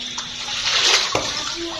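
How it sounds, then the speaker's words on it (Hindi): Water streaming down a staircase into a house during flooding, a steady rushing splash that swells midway, with a brief thump near the middle. "अभी भी सीढ़ी से जो है ना पानी आ रहा है"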